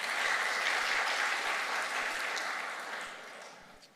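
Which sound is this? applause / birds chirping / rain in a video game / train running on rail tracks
applause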